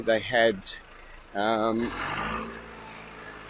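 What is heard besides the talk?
truck passing outside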